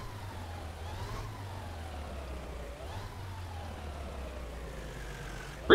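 Vehicle engine in the firefighting game Into the Flames: a steady low rumble runs throughout, with a wailing siren sweeping up and down over it and a sharp burst right at the end.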